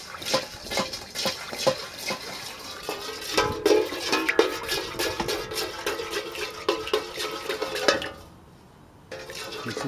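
Liquid molybdenum gear additive being stirred and mixed, with wet sloshing and light clinks of a container, steady and close, ending in a brief quiet pause.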